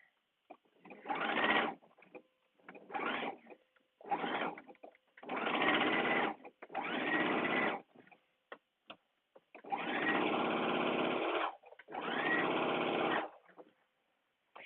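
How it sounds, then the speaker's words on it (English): A sewing machine top-stitches along a dress yoke seam in eight separate bursts of steady, close, fairly loud running, each a second or two long, with short quiet pauses between them and no talk. "now I'm just going to top stitch on my yoke seam"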